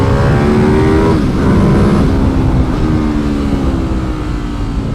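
A Ducati 1098 motorcycle on a track warm-up lap gives a loud, raw, continuous engine roar, with pitch dips at gear changes followed by renewed acceleration, close and unbroken.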